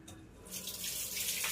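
Faint tap water running into a sink as bananas are washed, a soft steady rush that swells slightly over a brief moment; no talking.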